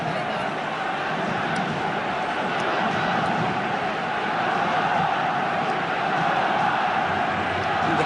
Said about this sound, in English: Crowd doing their bit now, responding to Frank Rijkaard's request to raise the roof here at the new camp